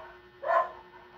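A single short dog bark, faint and somewhat distant, over quiet background hum.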